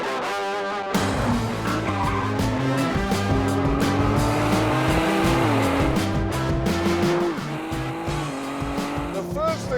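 A Ford GT sports car with its anti-lag system engaged, rear wing raised and suspension stiffened, drives hard with a loud, continuous engine note that rises and shifts through gears, with tyre squeal near the end.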